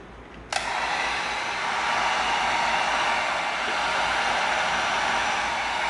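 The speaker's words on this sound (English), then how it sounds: "We want to take our heat gun." A heat gun switches on with a sharp click and then blows a steady, loud rushing hiss of hot air onto EVA foam. It carries on without a break and nobody speaks.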